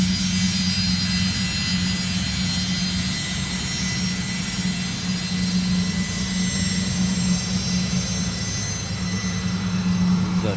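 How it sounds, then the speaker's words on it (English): A NOAA weather aircraft at Honolulu airport runs its engines, giving a loud, steady, continuous roar with a droning tone that holds throughout. "This is a NOAA aircraft."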